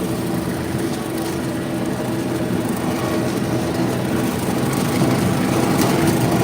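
A John Deere 3032E tractor pulling a 5-foot bush hog drones continuously with a rough, rumbling mowing roar that holds steady throughout, close and loud.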